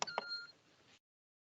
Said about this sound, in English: dud beep you hear means the drawer wasn't in properly